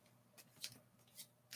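Playing cards are shuffled in a few quick, soft riffling bursts, faint and close, with no talk.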